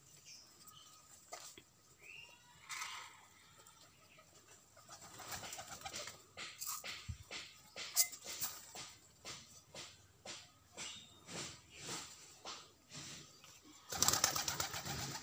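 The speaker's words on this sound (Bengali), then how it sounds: "এই তো আমাদের দেশি কবুতর কিছু যারা বাইরে গিয়েছিল তারা এইমাত্র আসলো" Domestic pigeons landing back on a rooftop, with a series of wing flaps and flutters arriving at a rough, pulsing rhythm, soft cooing and scuffling close by, growing busier toward the end; fairly quiet overall with no talk.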